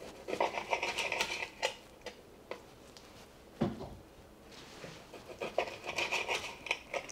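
A knife cutting beef into 2-inch pieces on a board, producing irregular close scraping strokes and sharp taps with short pauses between.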